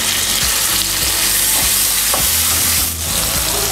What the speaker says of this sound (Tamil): இது கூட நீங்கள் தக்காளி சேர்த்துக்கோங்க.